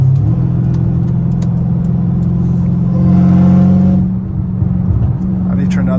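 A straight-piped Dodge Challenger Hellcat Redeye on a highway, its engine droning low and loud throughout and swelling briefly as it accelerates, with a voice talking over it.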